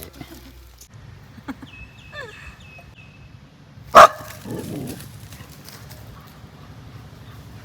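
A single sharp dog bark rings out amid quiet background noise, followed by a brief softer rumble and faint clopping sounds.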